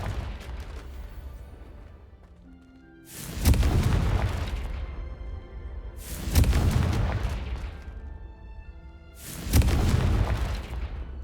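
Three heavy booming blasts from the Confringo spell in Hogwarts Legacy, each erupting loudly and rumbling down over a few seconds before the next, spaced roughly three seconds apart with no talk.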